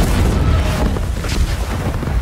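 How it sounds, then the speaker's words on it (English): A German ship explodes in a steady, loud, rumbling roar. Deep booming fills the whole moment without a break. "the German ship detonates, obliterating everyone aboard"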